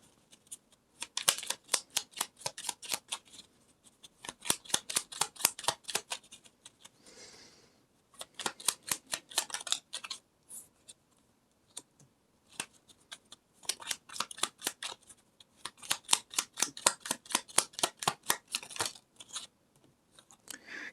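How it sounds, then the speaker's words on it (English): Tarot cards shuffled by hand in repeated bursts of rapid riffling clicks, each run lasting a second or two and separated by short pauses, close and crisp with no talking. "Sometimes I'm not a very good shuffler."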